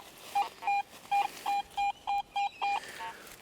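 Metal detector signal tones beeping during a hunt, around eight short steady mid-pitched beeps in an even rhythm, close and clear over quiet outdoor background.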